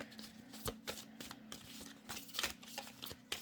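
Tarot cards are shuffled and drawn by hand in a string of quick, close riffling and snapping bursts, with soft slaps as cards land, no talk.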